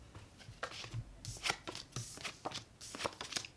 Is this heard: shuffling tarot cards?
yes